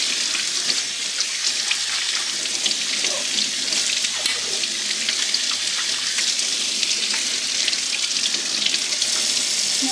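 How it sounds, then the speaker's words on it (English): Running tap water pours steadily into a sink as an etched glass picture frame is rinsed, a loud continuous close splashing rush. "And then give it a rinse."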